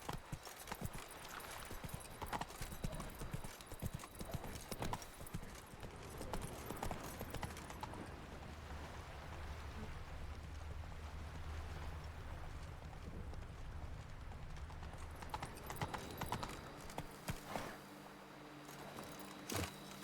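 Roach the horse gallops in The Witcher 3 video game, with rapid clip-clop hooves beating steadily and close throughout, easing into a slower gait toward the end.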